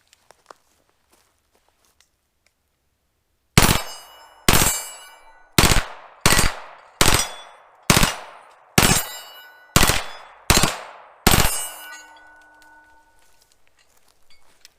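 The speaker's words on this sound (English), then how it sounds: "That's 30 rounds just like that on a 3-round burst." Heckler & Koch MP5 fired in three-round bursts outdoors, ten sharp loud reports spaced about a second apart, each ringing out with a short echo, after a quiet lead-in with a few faint clicks.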